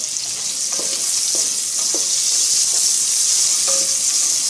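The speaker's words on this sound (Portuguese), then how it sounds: "Agora vamos dourar a cebola." Chopped onion frying in oil in a pan while being browned for oxtail with polenta, a steady close hiss of sizzling with a few faint utensil clinks, no voices.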